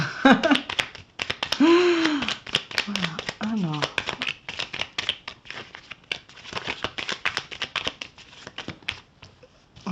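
Tarot cards are shuffled by hand in quick papery riffles and soft flicks, a card slipping loose from the deck, close and clear, with someone talking over parts of it.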